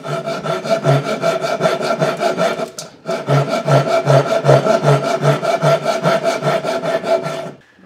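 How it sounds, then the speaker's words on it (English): A hand saw cuts along marked lines to free the feet of a wooden book rack, which is built without glue or screws. Steady rhythmic back-and-forth strokes sound close and loud and carry no talk, broken by one short pause before the cutting resumes. "We're going to follow the lines down and cut this out"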